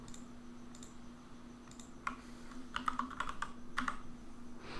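Computer keyboard typing HTML list-item code, scattered single key clicks that build into a quicker run of close taps over a low steady hum, with no voices.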